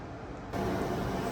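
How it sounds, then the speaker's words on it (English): Pump on a waste-oil shop heater stove runs with a steady broadband whir, a soft hum that jumps louder after a moment and then holds constant and close. "The iPhone picks up the pump noise and amplifies it to make it sound like this thing is"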